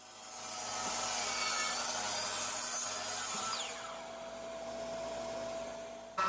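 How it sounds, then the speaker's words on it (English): A miter saw cuts across the edge of a wood board, a loud sustained whining rasp that eases off partway through and continues more quietly until the motor stops. "Now I'll square up one edge of the miter saw."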